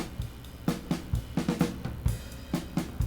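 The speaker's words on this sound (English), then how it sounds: "now we can hear the reverb there" A Pro Tools mix with the reverb return turned up plays at moderate level, a busy drum and music loop with punchy low hits and washy, smeared tails between beats, no talking.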